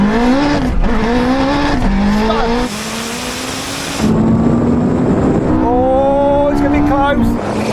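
A Honda Integra Type R drag races a Porsche 918 Spyder, with loud engines revving hard through rising pitch sweeps and gear changes, plus tire squeal, close and continuous, while people talk over them.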